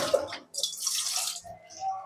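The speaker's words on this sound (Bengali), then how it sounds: "এই জন্য আমি একটু পানি দিয়ে দিলাম আর কি" A little water is poured into spices frying for beef liver bhuna, giving a short hissing splash that swells and fades, with light kitchen clatter before it.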